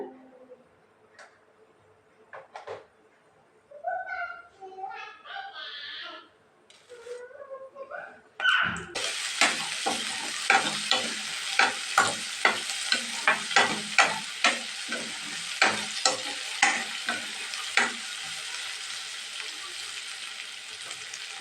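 Onions sizzle in hot oil with mustard seeds after a quieter stretch of kitchen clatter, the frying hiss steady with rhythmic stirring scrapes repeating over it.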